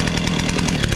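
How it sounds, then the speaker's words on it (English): A chainsaw runs steadily at a fast, even chattering pulse, loud and close, with no voices over it. "Take the old chainsaw again, fire it back up."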